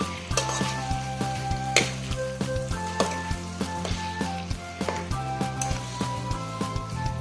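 Meat frying with spices in a covered pan over low heat gives a steady close sizzle, with regular clinks and scrapes of stirring throughout.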